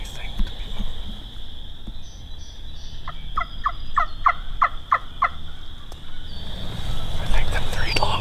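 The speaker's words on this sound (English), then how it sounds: "They're right out here gobbling out the field." Several wild turkey longbeards gobble out in a field, a single rattling gobble burst in the middle of the clip at moderate distance, heard amid outdoor ambience and rustling.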